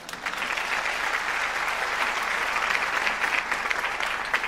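An audience applauds steadily throughout, a dense, even clapping from a crowd welcoming Colonel Hamid Afzal to the stage at an event, sustained and fairly loud with no voices over it.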